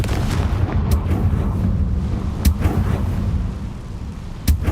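Confringo spell explosions in the Hogwarts Legacy video game: a dense, steady low rumble broken by three sharp, loud bursts spaced a couple of seconds apart, with no talking.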